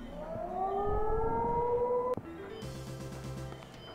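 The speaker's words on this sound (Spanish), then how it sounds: "La sirena que sonaba era al descanso," In the video game Shenmue, a long rising work-break siren wails loud and steady for about two seconds, then cuts off with a sharp thump as lower machine-like drones continue.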